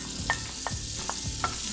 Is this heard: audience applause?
no